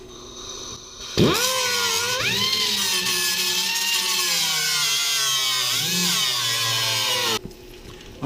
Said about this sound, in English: use the grinder to get the rest of this metal off